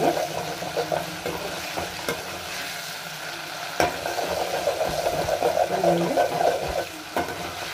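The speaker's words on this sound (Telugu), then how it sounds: "ఈ అల్లం వెల్లుల్లి పేస్ట్ బాగా వేగినంత వరకు ఫ్రై చేసుకోవాలి." Ginger garlic paste frying in a pan, a continuous close sizzle with stirring scrapes and occasional sharp clicks of a spoon against the pan, no talking.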